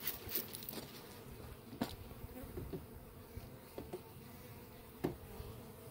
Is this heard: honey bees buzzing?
yes